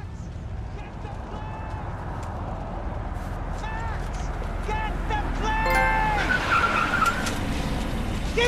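In the Max Payne 3 video game, a car drives hard with its engine roaring and its tires squealing through repeated skids over several seconds. Shouting voices and game dialogue run over the driving noise.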